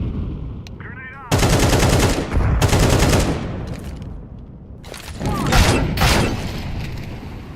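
A shooter video game fills with bursts of rapid automatic gunfire and heavy booms, loud and close, separated by short quieter gaps of game ambience.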